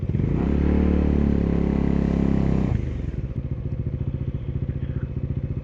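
A motorcycle engine runs loudly up close, a steady rumbling idle that drops to a lower, pulsing idle partway through as the bike is moved.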